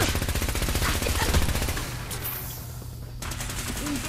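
Rapid automatic gunfire rattles in Fallout 4, loud, dense bursts that stop briefly partway through and then resume.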